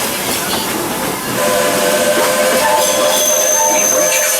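The Walt Disney World Railroad train at Magic Kingdom rumbles and hisses steadily as it rolls along, a continuous loud ride noise with faint tonal whistling.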